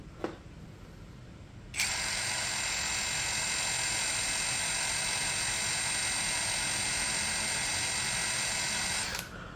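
A cordless impact driver from the brand Dong spins freely in low mode. A steady high whine starts abruptly, holds evenly for about eight seconds, then cuts off, loud and close, with no voices.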